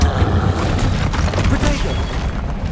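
Booming blasting-spell explosion of Confringo in Hogwarts Legacy, a loud dense rumble with crashing bursts that stays strong for the whole moment.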